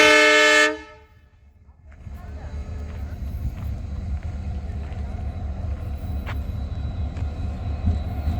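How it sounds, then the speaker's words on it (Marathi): A loud train horn blares briefly, then a trial train on the new Vighanwadi–Rajuri line rumbles steadily past with a low, continuous roll and occasional clanks. "बघा ट्रेन"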